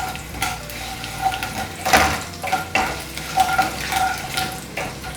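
Mustard seeds, asafoetida and dried chillies sizzle in hot oil for a mango ginger thokku, a loud close crackle with popping bursts and stirring scrapes throughout.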